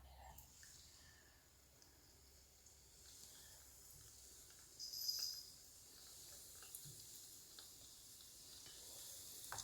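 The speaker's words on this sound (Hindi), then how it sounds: "अब हम इसे ऑयल में डालते हैं एक एक करके" Cinnamon batter balls dropped one by one into hot oil sizzle and hiss softly and steadily, a faint frying crackle with a brief louder flare midway.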